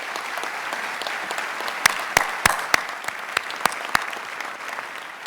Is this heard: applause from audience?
yes